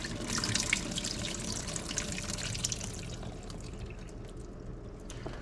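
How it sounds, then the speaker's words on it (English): Cold tap water pouring and splashing into a kitchen sink while food is rinsed and drained for German goulash, loud at first, then easing into a lighter trickle with small clinks. "Doesn't have to be perfect, just rinse them off."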